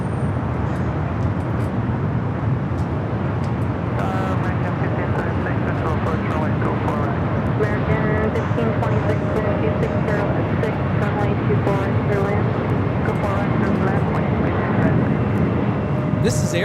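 Airplane engines roaring steadily on a runway at Los Angeles International Airport, a broad continuous rumble from a distance, with a voice talking over it throughout.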